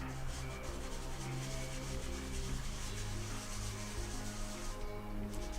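Steady, soft rubbing and scraping of sandpaper worked by hand on a model, continuous and close, with no talking.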